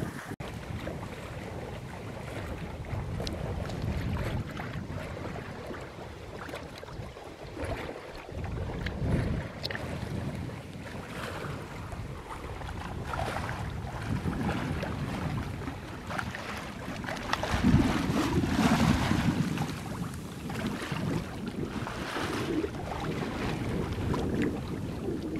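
A sailboat underway between the Berry Islands and the Exumas, with continuous wind buffeting the microphone and water rushing along the hull, a steady broad roar that swells and eases, no talk.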